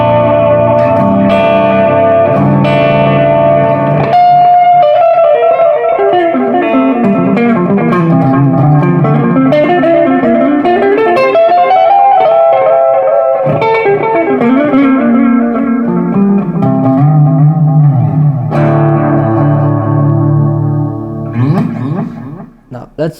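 Electric guitar run through a Wampler Pantheon Deluxe overdrive pedal set to low gain, playing bluesy chords and single-note lines with a lightly driven, bright clean tone, continuous and loud with ringing sustain.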